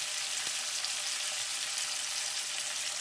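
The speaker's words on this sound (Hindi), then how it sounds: "यहाँ लहसुन प्याज हरा मिर्चा और टमाटर सबके फोड़न पड़ गई बटे जीरा रहे" Garlic, onion, green chili, tomato and cumin sizzling in hot oil for a tempering, a steady close frying hiss throughout with no talking.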